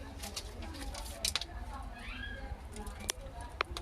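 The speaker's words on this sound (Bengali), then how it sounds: "অনেক সুন্দর কবুতর।" Pigeons of a KTM breed coo softly in a loft with a few sharp clicks and rustles, while someone talks over them nearby.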